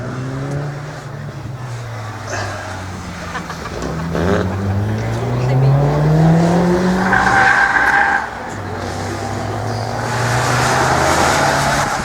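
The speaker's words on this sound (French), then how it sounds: "Et puis sur la piste également une autre voiture dans le groupe loisir avec celui qui fait figure de grandissime favori avec cette voiture, cette Lotus Elise." A Lotus Elise races through a slalom course, its engine rising and falling in loud revving sweeps with tire squeal as it is pushed hard through the gates, heard close and continuous.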